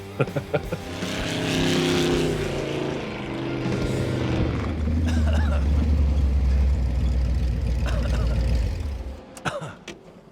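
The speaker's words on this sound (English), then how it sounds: "The sound of the exhaust right there in stereo, pure adrenaline rush." A loud Ford engine in a desert roadster built on a Ranger chassis revs up and roars, its pitch rising and holding with a rumbling exhaust before easing off, close and dominant throughout.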